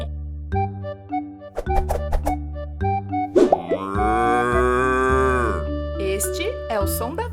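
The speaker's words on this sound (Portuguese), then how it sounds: "Este é o som da vaca e ela vai mugir outra vez." A cow's long, wavering moo rises in the middle of a bright children's farm-animal song, set against bouncy music with plucked notes before and after.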